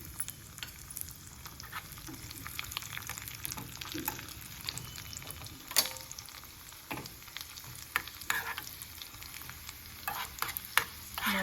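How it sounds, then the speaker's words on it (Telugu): Cashews and raisins fry in ghee in a pan, a soft continuous sizzle with scattered light scraping and stirring clicks, fairly quiet and close, with no voices. "ఇట్లా మనము ద్రాక్ష గోడంబి నెయ్యిలో వేయించుకోవాలి"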